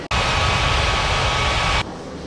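Jet airliner taking off in an air traffic control game set at Ngurah Rai Bali International Airport, a loud steady engine roar that starts abruptly and cuts off after under two seconds, leaving quieter hum.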